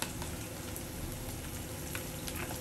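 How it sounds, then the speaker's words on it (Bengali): Ginger garlic paste fries with onions and tomatoes in a pan, giving a steady, soft crackling sizzle throughout with occasional sharper pops. "আর একটু ভেজে নেব।"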